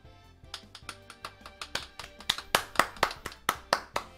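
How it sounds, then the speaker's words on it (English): Rapturous applause fills a garage in the visual novel If My Heart Had Wings, a steady run of crisp close hand claps that builds louder and denser toward the end, with no talk. "the garage was filled with a much more rapturous applause this time."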